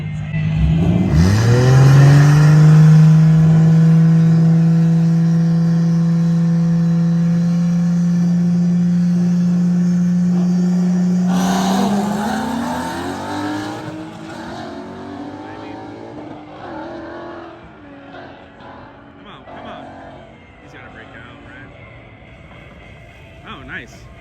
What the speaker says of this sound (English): racing this Boss Mustang for round number